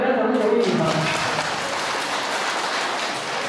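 Applause from a seated audience at a Buddhist-style talk on purifying body and mind, broad steady clapping filling the short stretch after a brief voice at the start.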